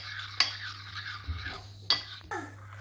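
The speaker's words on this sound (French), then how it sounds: "Et on mélange pour avoir une bonne ganache" Utensil scraping and clinking against a bowl while melted chocolate is stirred into a ganache, with a few sharp taps standing out over a steady low hum, close and fairly quiet.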